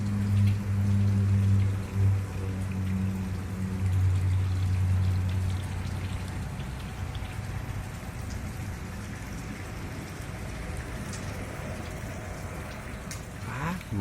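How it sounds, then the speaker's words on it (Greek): Water flowing steadily along a stream on a nature walk, a continuous pouring, splashing wash close by that stays fairly loud throughout. "νεράκι."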